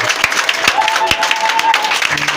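A church congregation at a worship service applauds and cheers, with sharp bursts of clapping and raised voices. The crowd noise is loud and close, mixed with people talking.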